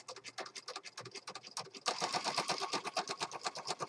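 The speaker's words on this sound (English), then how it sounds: "I'm just going to start sewing in the corner here." A sewing machine stitches through a handmade planner journal in rapid, even rattling bursts, close and fairly quiet, growing busier and denser partway through.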